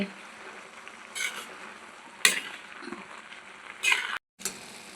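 Grated carrot halwa cooking in milk is stirred in a pan, a quiet simmering sizzle broken by several scraping spoon strokes and clinks against the metal, close by, with a brief silent gap near the end.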